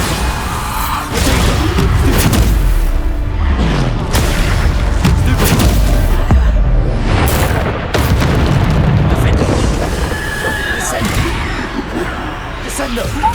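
Bombarda blasting-spell explosions in Hogwarts Legacy combat, a string of loud booming bursts that land every couple of seconds over dense battle noise, with a voice shouting spell names on top.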